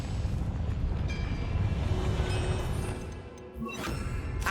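A Confringo blasting spell explodes in Hogwarts Legacy, a dense, roaring crash-like boom that fills the clip with rumbling and debris before briefly easing and swelling again.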